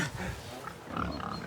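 Pigs raised for charcuterie on a small French farm grunt and snuffle in their pen, with low, overlapping grunts close by and a faint higher squeal near the end.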